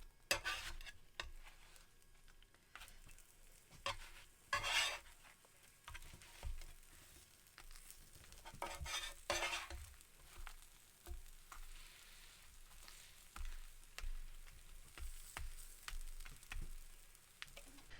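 Breakfast wrap fillings fry quietly in a pan as a spatula scrapes and flips them, with sharp utensil clicks and a few louder bursts over a soft, steady sizzle.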